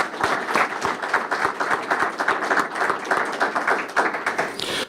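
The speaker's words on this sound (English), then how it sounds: "So please give them a round of applause." A room full of attendees at the 2011 Westmont State of the Schools Address, a chamber luncheon, bursts into dense, steady applause lasting about five seconds, with many overlapping hand claps close by and at an even level throughout.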